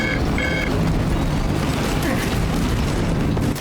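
Fire grenades burst in a co-op video game battle, a continuous loud booming roar of explosions with a few beeping tones near the start, sustained for several seconds.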